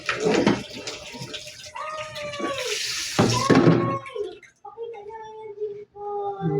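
Running faucet water splashing over dishes as a child rinses them at a sink, a steady gushing stream with clinks and pauses, while an adult's voice talks over it.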